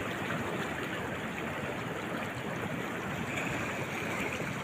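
Water gushes steadily over a bridge where only one or two of several drain pipes flow and the rest are choked with debris, a constant, even outdoor rush that stays unchanged and is heard alone.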